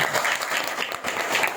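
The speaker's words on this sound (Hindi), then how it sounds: "इनके लिए एक बार जोरदार ताली" Brief burst of crowd applause at a Guru Purnima satsang gathering, clapping for a devotional performer, dense and even with a short dip midway.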